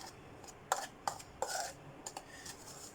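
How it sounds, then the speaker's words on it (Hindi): Flour and turmeric powder stirred together in a bowl for onion ring batter, giving a few sharp spoon-against-bowl clinks and light scraping taps, close and fairly quiet, with no talk. "अभी मैं इसको करूँगा मिक्स"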